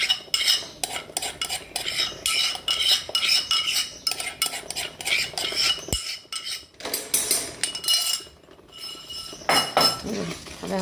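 Onions with garlic-ginger paste stirred in a pan for chole, with a metal spoon clinking and scraping steadily and rapidly against the pan, close and fairly loud throughout.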